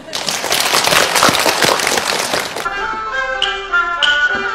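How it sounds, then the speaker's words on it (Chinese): An audience at a Yue opera event breaks into dense, loud applause for a couple of seconds before it cuts away to music. "大家掌声"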